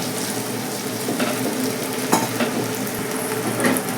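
Water poured into a pan of frying onions and tomatoes for a fish curry with potato and eggplant, a loud continuous sizzle with a few light stirring clinks.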